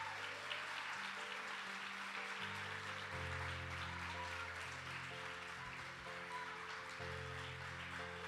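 A church congregation claps steadily in sustained applause, moderately distant and blended with held musical tones underneath.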